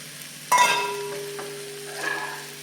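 Cooked rice being stirred into paneer pulao in a pan: a sudden scrape and stir, then a soft sizzling hiss that fades and swells again briefly, close and alone with no talk.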